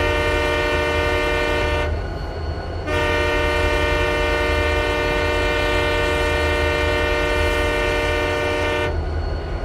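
In the video game RO-Scale Sandbox, a Canadian Pacific freight train horn sounds as a loud chord, cuts off briefly, then resumes in a long, unbroken blast of about six seconds over constant rail rumble.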